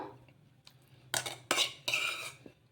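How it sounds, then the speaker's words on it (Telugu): A spoon scrapes and clatters against a pan while cabbage, onion and egg are stirred together, giving three or four sharp bursts of metallic scraping close up, with no talking. "ఇలా ఈ విధంగా ఇలా క్యాబేజీ కూడా వేసుకొని మొత్తం ఒకసారి ఈ విధంగా బాగా కలిపేసుకుందాము"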